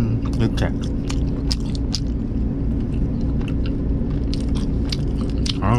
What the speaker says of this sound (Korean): 손으로 그냥 소금 후추 딱 찍어 갖고 딱 뜯어 먹어야 돼 손으로.